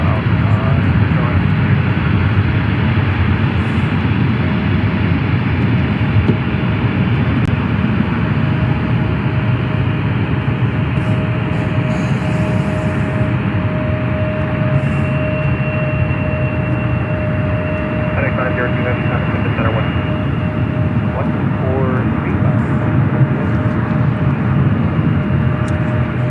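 A United Embraer 175LR airliner at Memphis International Airport gives a steady, loud, broad engine roar that holds without break, with a faint voice now and then under the noise.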